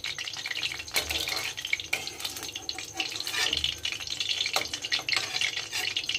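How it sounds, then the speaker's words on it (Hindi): Cauliflower fries in hot oil for halwai-style aloo gobi, a close, busy sizzle broken by stirring clatters and bubbling bursts throughout, with no one speaking. "इसी टाइम ये तेल में अच्छी तरह से फ्राई हो जाएगी"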